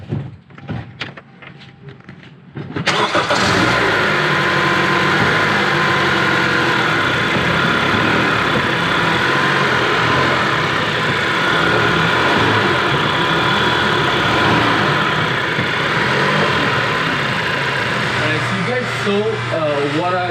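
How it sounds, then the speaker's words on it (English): A Honda car engine fitted with a new engine mount runs loud and close, a steady, dense rumble that starts abruptly after a few seconds of quieter knocks and continues unbroken to the end. "I'm gonna go torque the engine so you can see what a good mount should move like."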